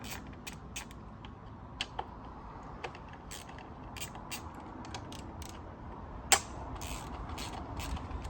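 A series of light mechanical clicks and creaks from a ratchet undoing small coil pack bolts on a Ford Fiesta engine, with one sharper click standing out near the end.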